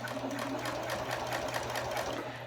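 A Janome HD9 sewing machine stitches fabric in a fast, steady mechanical run, close and continuous without pauses, with no talk.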